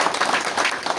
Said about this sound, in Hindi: इसके लिए एक जोरदार तालियां वर्मा जी को